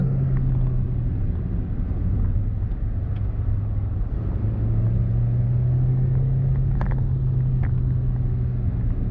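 A 2003 Toyota Yaris with a 1.5 VVT-i 105 hp engine cruises along steadily, a constant low engine drone and road rumble from inside the cabin, with no one speaking.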